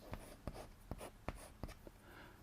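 Chalk or marker writing on a classroom board during a maths lesson, several distinct sharp strokes and taps spaced irregularly about half a second apart, close and clear against a quiet background.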